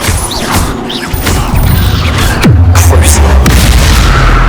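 A Bombarda blasting spell from Hogwarts Legacy goes off as a loud, heavy boom with crashing debris, and a deep rumble lingers underneath to the end.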